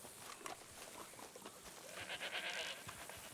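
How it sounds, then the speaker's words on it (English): Sheep bleating in the RedM video game, a short wavering bleat rising briefly over a low ambient game background, moderately near and fairly faint. "I heard some of the sheep for a second."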